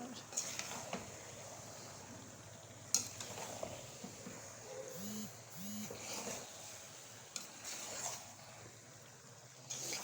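Pasta with vegetables and chicken being stirred and mixed in a pan, with soft scraping and clinking of a utensil against the pan, a few sharper knocks, and faint sizzling underneath.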